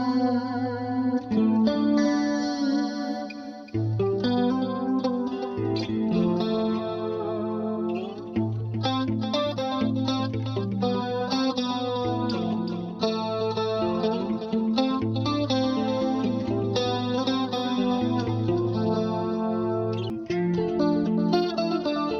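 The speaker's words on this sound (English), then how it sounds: "let's go natural amp, put a bit of delay and chorus" Guitar played through a Boss ME-90 multi-effects pedalboard on a natural amp setting with delay and chorus, a continuous melodic passage of notes and chords that shimmer and echo, alone without talk.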